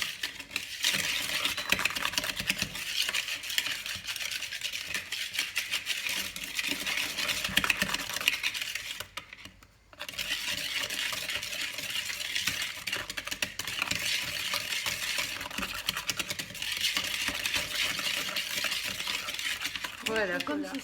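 A whisk scrapes steadily through chocolate flan batter in a bowl, giving a continuous close rattling stir with one short pause partway through.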